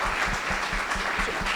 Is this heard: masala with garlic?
no